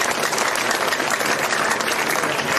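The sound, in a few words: crowd applause at election rally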